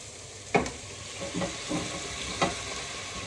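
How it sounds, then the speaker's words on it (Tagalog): Shrimp and broccoli cook in a pan with a soft, steady sizzle, broken by a few clinks and scrapes as the food is stirred. "Simmer lang natin ng 2 minutes."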